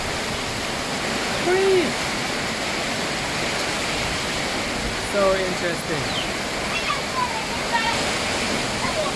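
Rain falls steadily during the rainy season, a dense, even hiss that fills the space, with faint chirps and a brief soft voice over it.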